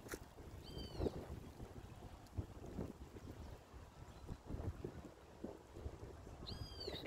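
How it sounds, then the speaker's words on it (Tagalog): Wind moving through large trees in Woodford Square, a city park in Port of Spain, Trinidad, as a faint steady rushing with gusty buffeting, a few distant thumps and brief bird chirps. "Mahangin kasi malalaki yung mga puno rito."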